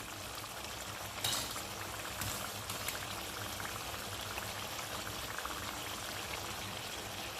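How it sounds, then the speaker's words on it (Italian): Spaghetti drained into a frying pan: a continuous wash of hissing, bubbling liquid noise with a few brief splashy surges, moderately loud and steady, no voices. "vado a scolare la pasta in padella"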